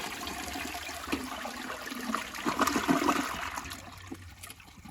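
A Jacuzzi Perfecta toilet flushing alone, a steady rushing gurgle of water that swells in the middle and then drains away.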